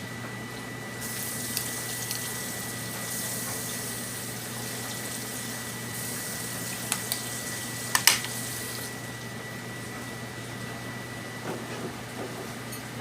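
Tap water running steadily into a kitchen sink, a constant hiss with a low hum beneath and a couple of faint clinks partway through; no talking.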